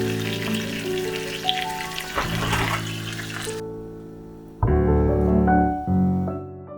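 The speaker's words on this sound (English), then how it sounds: "I let everything cook covered, so the cheese melts slightly and blends even better with the dish." Eggplant and ground meat with cheese sizzles and crackles in a covered pan, a steady close frying hiss that drops after a lid knock and then resumes.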